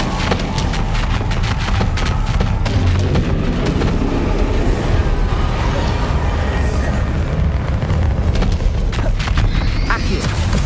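The Confringo fire spell explodes during combat in the Hogwarts Legacy video game, a dense, loud, continuous roar of booming blasts and crackling debris layered over busy battle sounds.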